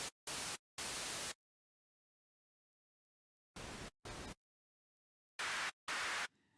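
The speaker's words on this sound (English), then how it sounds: "it is white or pink noise with a bandpass filter as another option" Harsh bursts of white noise from a synthesizer noise generator switch on and off abruptly, several short blasts separated by dead silence.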